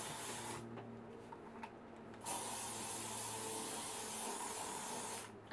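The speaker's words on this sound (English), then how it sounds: "so I'm just going to spray it" Hairspray hisses onto curled hair: a short spray burst, a pause, then a longer steady spray of about three seconds, close to the microphone.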